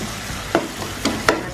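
A spoon stirs snake fish masala with cumin and amchur powder in a sizzling pan in a village kitchen, producing about four distinct scraping strokes over a gentle frying hiss.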